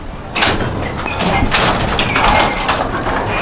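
Garage door lifted slowly by hand after a spring replacement, giving a continuous rolling, rumbling slide with faint metallic rattles, close and fairly loud, no talking.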